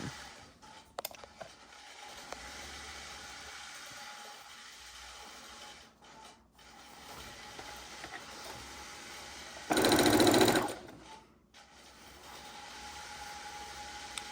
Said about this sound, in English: we're going to sew it on